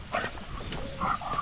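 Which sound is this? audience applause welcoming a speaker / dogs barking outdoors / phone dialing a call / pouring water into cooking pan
dogs barking outdoors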